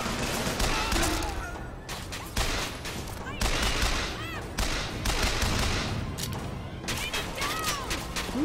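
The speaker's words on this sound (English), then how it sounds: "Who's shooting at me from over there?" Sustained gunfire in BioShock Infinite: dense bursts of rapid shots and echoing cracks keep coming with brief gaps, loud and close throughout, with a voice speaking over the shooting.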